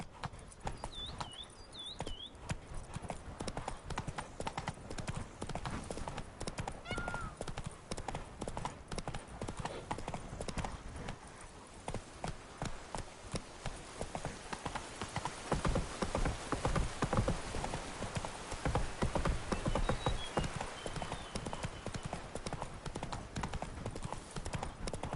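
Steady, rapid hoofbeats of a galloping horse in the video game The Witcher 3 run throughout, with a soft patter like rain beneath and a brief whinny near the start.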